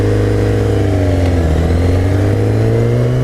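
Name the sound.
Kawasaki Ninja ZX-10R motorcycle engine revving at full throttle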